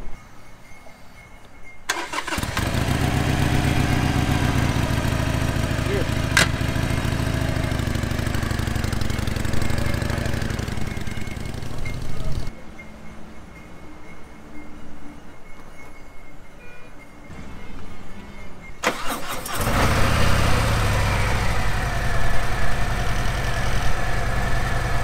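A Harley motorcycle on a Mumbai-to-Dhanushkodi road trip in India starts up close by and rumbles loudly, cuts off midway, then fires up and runs again, with no talk over it.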